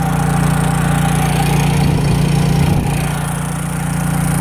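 A Honda EU3000is 3,000-watt inverter generator running on propane under heavy load hums steadily with a loud, even engine drone close by, with no voices.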